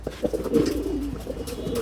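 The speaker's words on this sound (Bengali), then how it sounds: "কবুতর গুলারে খাওয়ান দিলাম," Pigeons coo on a rooftop as they gather to feed, a close, low, throaty murmur of overlapping coos with soft rustling around them.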